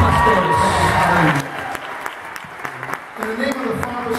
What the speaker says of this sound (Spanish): Denle un fuerte aplauso a sus pastores.